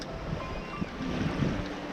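Sailboat sailing at sea at night, with steady wind and water rushing against the hull, a continuous, even wash of noise with no voices.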